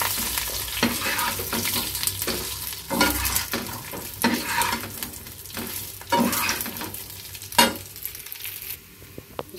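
Suji dhokla pieces frying in a pan, with a steady close sizzle broken by repeated stirring strokes that scrape and rattle every second or two.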